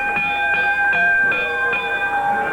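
Wrestling ring bell clanged in a quick series of about six evenly spaced rings, loud and bright with ringing overtones, each strike decaying into the next.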